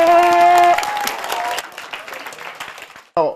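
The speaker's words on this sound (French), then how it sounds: "On applaudit très très fort les enfants." A television studio audience applauds children after a song, the clapping rising from under a fading sung note and held chords, then thinning out before a short burst of music cuts in at the end.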